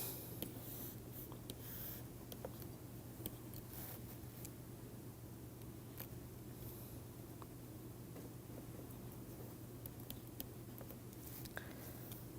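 A pen sketches a graph by hand on paper, making soft, continuous scratches and small taps that run close and quiet over a steady low hum. No one speaks.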